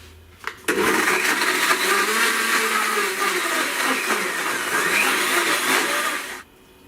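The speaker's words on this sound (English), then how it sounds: "Blend on high for about 20 to 30 seconds." A blender runs on high through a blueberry smoothie, a loud steady whirring roar that kicks in after a brief click, holds for several seconds, then cuts off abruptly, with no voices.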